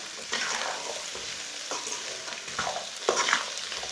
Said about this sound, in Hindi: ऐसे इसे चम्मच चलाते हुए भून लेना